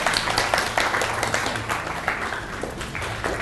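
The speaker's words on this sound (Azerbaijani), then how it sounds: "Alqışlar." Applause from an audience for a winning school quiz team at a regional selection round, a broad patter of many hands clapping, strongest at the start and gradually easing, with faint voices under it.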